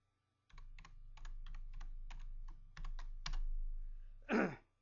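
Computer keyboard keys clatter in a quick, uneven burst of close, crisp clicks while code is typed, ending in one heavier clack, with nobody speaking.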